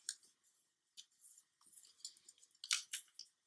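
Paper creases and rustles in short bursts while being folded for an origami Nambu pistol, crisp crackling scrapes and rubs scattered across a few seconds, close up, with no talking.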